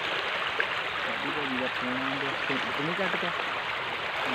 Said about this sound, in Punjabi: ਆ ਦੇਖੋ ਪਾਣੀ ਦੀ ਸਪੀਡ ਚੈੱਕ ਕਰੋ ਤੁਸੀਂ ਕਿੰਨਾ ਜ਼ਿਆਦਾ ਪਾਣੀ ਆ ਜੀ